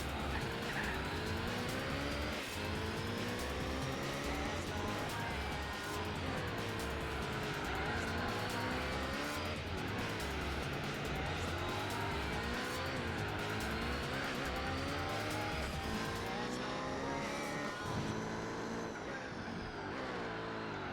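Race car engines in the Gran Turismo 4 video game scream continuously, rising and falling through gear changes with occasional tyre squeal, loud and close throughout with no talking.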